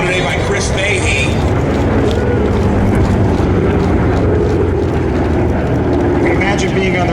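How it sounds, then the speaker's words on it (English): A P-38 J fighter plane makes a flyby at an airshow, its loud, steady engine roar filling the air throughout, with some crowd and ambient noise mixed in. "Here's a beautiful flyby of our P-38 J model."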